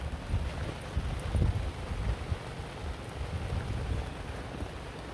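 Steady rain falls at night around a desert campsite in Quartzsite, Arizona, a dense wet patter with gusts of wind and occasional heavier low rumbles, continuous throughout.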